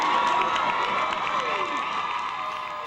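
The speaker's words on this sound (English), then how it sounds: "The football team received rousing applause as they charged into the gym." Gym crowd at a high school pep rally cheers and applauds as the football team charges in, a loud, sustained roar of clapping, shouts and whoops with children's voices rising above, echoing in the indoor space.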